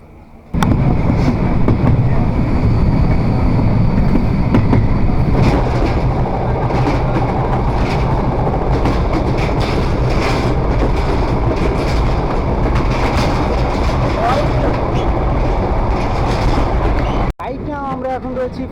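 Madhumoti Express train runs on its rails near Faridpur station in Bangladesh, a loud steady rumble with rhythmic wheel clatter and occasional squeals, and people talk over the noise.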